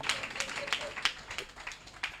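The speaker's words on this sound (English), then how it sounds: "If you're not clapping, something is wrong somewhere." An audience at a speech event claps in loose, scattered bursts of moderate loudness, with faint talk underneath.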